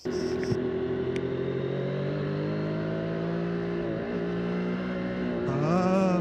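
A Triumph Street Triple 765 RS motorcycle hums steadily while being ridden, its engine tone rising and shifting with throttle, heard close with a higher-pitched rise at the end.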